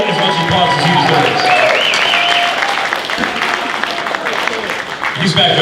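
An audience at a music business conference and showcase applauds loudly and continuously, with scattered voices and a few cheers mixed into the sustained clapping.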